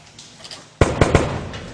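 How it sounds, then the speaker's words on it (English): Movie shootout gun sound effects: three sharp, loud gunshot-like bangs in quick succession, each with a short decaying tail, following a quieter low-level background. "Bring the third gun sound effect and line it up with the third muzzle flash."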